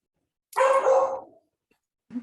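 A pet dog barks once, a single loud close bark followed by silence and a short faint yelp or whimper at the end, heard during an online story-sharing circle.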